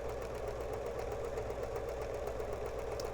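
A sewing machine stitches the first fabric strip of a mug rug, giving a quiet, steady motor hum with a fast, even needle pulse throughout.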